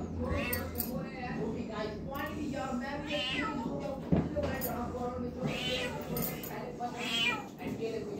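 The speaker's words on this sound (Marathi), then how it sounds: "तिला किती त्रास होतो त्या मांजरीला किती ओरडते" A distressed cat meows and cries loudly and repeatedly in a series of long, wailing calls that run across the whole stretch, close by, with no talk between them.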